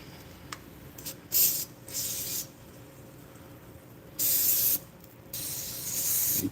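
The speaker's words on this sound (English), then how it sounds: "Cooking spray." Cooking spray hissing onto a chaffle maker in several short aerosol bursts, some brief and a couple longer, close and clear in a quiet kitchen.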